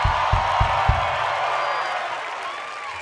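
Concert crowd at a Rock the Garden 2019 set cheers and claps for the bassist. A few heavy drum thumps open the clip, then a broad wash of applause and whoops fades gradually.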